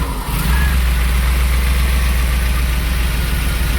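A cold car engine fitted with FiTech fuel injection idles steadily after sitting unstarted, a loud, continuous low rumble close by with no talking.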